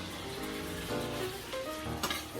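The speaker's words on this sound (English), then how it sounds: "Now let's cook this shrimp, right? Doesn't take long to cook the shrimp." Shrimp sizzle in a hot pan with a steady close crackle and frying hiss, stirred now and then, with a few brief clinks and a brighter burst near the end.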